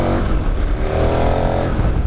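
A KTM 1090 Adventure motorcycle accelerates hard off the line, its engine roaring loud and close with a steady, rising drone and no talk.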